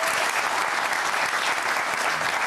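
Studio audience on a French television talk show applauding, a steady, dense wash of clapping throughout with no voices over it.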